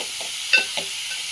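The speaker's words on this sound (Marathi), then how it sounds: "तर आता याला थोडंसं आपण फ्राय होऊ देऊ. त्यामध्ये सगळ्या भाज्या टाकून घेऊ. मस्तपैकी असं आपण मिक्स करून घेऊ" Vegetables for veg momo filling frying in a pan with a steady hiss, broken by two short stirring scrapes close up; no talk.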